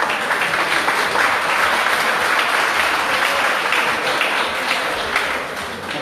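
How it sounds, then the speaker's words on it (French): Audience clapping for athletes at an evening celebration in France, a dense, loud wash of applause held for several seconds before easing slightly near the end. "je les donne des applaudissements"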